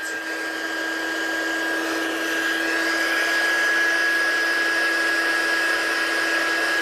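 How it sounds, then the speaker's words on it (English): A heat gun blows hot air onto embossing powder to set it, making a steady, loud whining whoosh with a constant tonal hum that builds slightly and holds evenly throughout. "So let's heat set this one. Get your gun hot."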